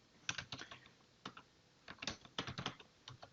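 Quick bursts of clicking keys on a computer keyboard as text is typed, with rapid irregular clusters and short pauses, close and clear with no voices.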